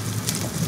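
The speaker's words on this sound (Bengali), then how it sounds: "এত বাজ পড়ছে যে আমি কথাই বলতে পারছি না ক্যামেরার সামনে" Heavy thunderstorm rain pouring down in a steady, dense hiss that stays even and fairly loud across the brief moment, with no distinct thunderclap standing out.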